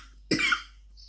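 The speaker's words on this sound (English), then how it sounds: "would you believe I start coughing when I come in here?" A single sharp, close cough from an adult indoors, abrupt and loud, then quickly fading to near silence.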